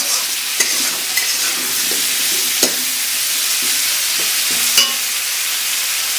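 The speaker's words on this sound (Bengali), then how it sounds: "আমি কিছু নারকেল দিয়ে দেবো একসঙ্গে ভেজে নেব সবজির সঙ্গে" Coconut and vegetables fry together in a pan for Gobindobhog rice khichuri, a loud, continuous sizzle broken by a few sharp spatula knocks and scrapes, close up with no talking.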